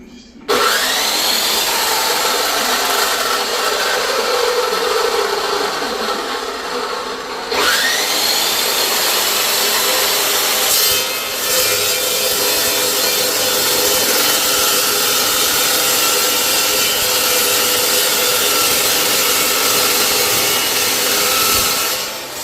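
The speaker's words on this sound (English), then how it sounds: "it's a cutoff saw that makes cold cuts so that it doesn't heat these things up" A cold-cut cutoff saw bites through steel for a JROTC burn barrel, a loud, steady grinding whine that runs nonstop, dips briefly, then starts a second long cut at the same level.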